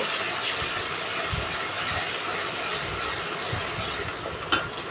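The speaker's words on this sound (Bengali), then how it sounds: "আদা রসুন বাটা দেওয়ার পরে আমি একটু ভালো করে ভেজে নিব।" Ginger-garlic paste fries in a hot pan for dal bhuna, a dense, steady sizzle and hiss throughout with occasional small pops.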